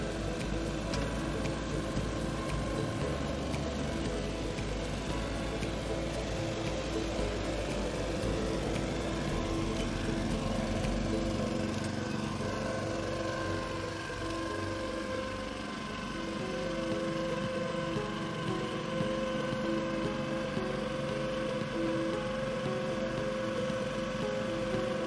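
A SunBrush TrackFlex solar panel cleaning machine runs with a steady mechanical motor whir and a continuous rotating hum, close and sustained with slight shifts in pitch, and no voices.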